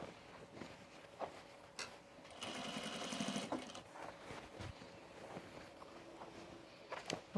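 A sewing machine stitching overalls fabric, with a short, faint whirring run of rapid needle strokes between soft handling clicks and rustles.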